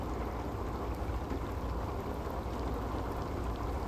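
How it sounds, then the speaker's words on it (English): Steady rain falling outdoors during a storm with lightning, a dense continuous hiss and patter that stays even and fairly loud throughout, with no voices. "We needed the rain. We got the rain."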